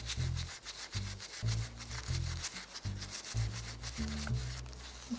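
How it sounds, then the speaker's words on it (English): A resin piece is sanded by hand in rhythmic back-and-forth strokes, roughly two per second, each a scratchy rubbing swish, close and faint, with no talking. "continue to sand the piece"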